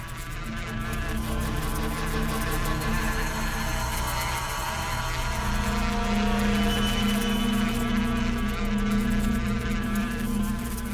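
Bees from a disturbed beehive drone in a steady, dense buzz that holds loud and continuous throughout, with no voices.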